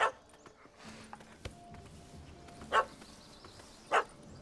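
A puppy in The Witcher 3 gives two sharp, mid-distance yips with a long pause between them, rising over a low ambient game background.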